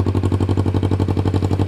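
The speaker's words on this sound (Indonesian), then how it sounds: "Kita akan coba geber tipis-tipis dulu gitu" Yamaha Vixion motorcycle with twin exhaust pipes, engine warmed up, running in a steady rapid throb with light blips of throttle, close and loud, no voices.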